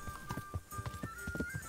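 Horse hooves clop in a quick, uneven rhythm while riding in the medieval game Kingdom Come: Deliverance, faint and fairly close under a thin tonal hum.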